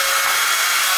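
A cordless drill powered by solar energy runs steadily for a moment on a construction site, a loud continuous high-pitched whir with no pauses.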